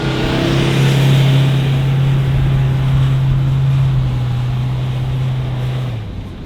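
Car engine straining and revving hard while stuck in soft sand on a remote beach, a loud sustained drone that holds steady and then eases off near the end, with wind noise around it.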